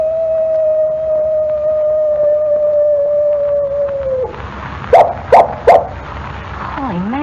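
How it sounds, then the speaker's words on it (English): A coyote howl in a 1940 Adventures of Superman radio drama: a long, steady, slightly falling tone holds for several seconds, then gives way to three loud, sharp yelps and a final rising whine. "It was a coyote, and here it comes now."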